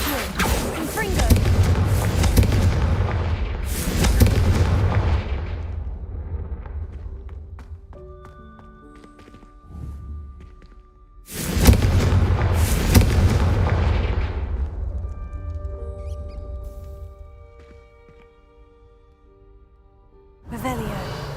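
Booming Confringo spell blasts in Hogwarts Legacy sound out as several loud explosions with long rumbling decays, separated by quieter stretches of faint tonal game music, and a final blast begins at the very end.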